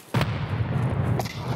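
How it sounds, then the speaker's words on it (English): In Escape from Tarkov, a grenade goes off with a sharp, loud blast, followed by a rumbling low tail and a second fainter crack about a second later. "That is also a grenade."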